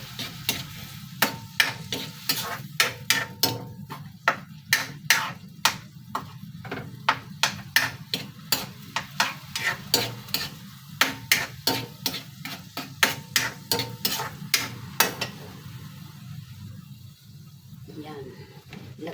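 Pakbet vegetables with fish bagoong are stirred and sautéed in a pan, giving a quick rhythm of sharp scraping and clacking strokes over a low sizzle. The stirring stops near the end and the sizzle is left on its own.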